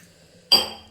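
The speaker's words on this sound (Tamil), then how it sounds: "அதில் இப்போ 1 டம்ளர் தண்ணி ஊற்றிருக்கேன்" Water splashes from a tumbler into a cooking pot holding ground masala for coriander pongal, a sudden close pour that swells and then fades over half a second.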